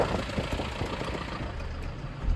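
A tractor engine idles with a low, steady rumble and a rough, knocking chug throughout, on a farm.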